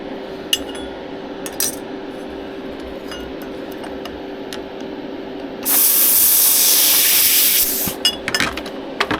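Handheld laser welder, an Xlaserlabs X1 Pro, cutting stainless or spring steel: a steady bright hissing spray runs for about two and a half seconds amid scattered clinks and faint shop noise.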